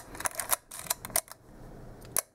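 Shutter of a Leica M7 silver chrome rangefinder camera firing at a one-second speed, a crisp mechanical click with a second click about a second later, plus small handling clicks, close and alone.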